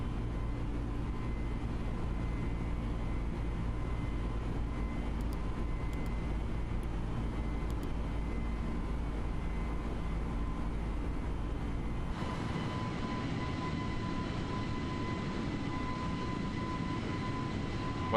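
An airliner climbing out of Queenstown in Microsoft Flight Simulator, flown by hand with flaps 2, heard as a steady loud engine roar with a deep rumble that thins abruptly midway into a lighter, airier drone, no voices.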